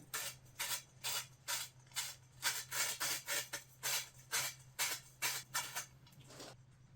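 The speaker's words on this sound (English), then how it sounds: "a little bit of sandpaper just to roughen up that surface" Sandpaper scrubbing back and forth inside metal awning tubing in a quick, regular rhythm of short rasping strokes, close and fairly clear, with no voices.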